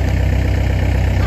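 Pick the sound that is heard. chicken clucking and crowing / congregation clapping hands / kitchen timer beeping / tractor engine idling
tractor engine idling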